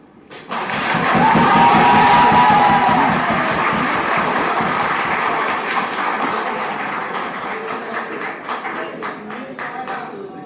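Cheering and clapping erupt in a crowded courtroom at the International Crimes Tribunal after a death sentence is handed down, a loud dense roar of applause that rises quickly and stays sustained, then slowly thins toward the end.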